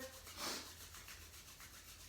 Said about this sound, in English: bring your palms together, rub them together.